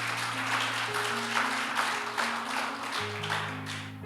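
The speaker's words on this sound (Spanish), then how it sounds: "Dale un fuerte aplauso al Señor allí." Church prayer service congregation gives a loud round of applause, dense clapping over sustained organ or keyboard chords that shift partway through.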